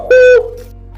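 A khomus, the jaw harp, imitates a cuckoo with a single short, resonant twanging coo note, loud and close, that quickly fades into a low hum.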